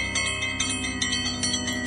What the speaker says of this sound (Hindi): मंदिर की घंटियां जोर जोर से बजने लगती हैं